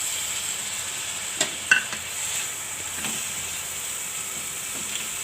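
Tomatoes cooking in a pan for a spinach and dried fenugreek curry, a steady hiss of frying with a couple of sharp utensil clinks early on, then soft even sizzling, without speech.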